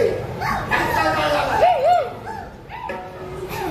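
At a Dashavatar folk theatre performance, short dog yips and whining bark-like cries rise over a background of voices and chatter.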